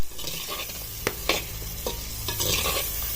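Soybeans fry in oil in a clay pot, giving a steady close sizzle broken by a few sharp scraping stirs and clinks from a spoon against the pot.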